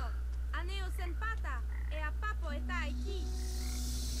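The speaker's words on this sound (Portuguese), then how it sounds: "tem sapos aqui, galera, que eu não gosto nada desses sapos" Frogs croak in the video game Papo & Yo, a run of rising, ribbed calls in quick bursts over a steady low hum, clear and close with no talking.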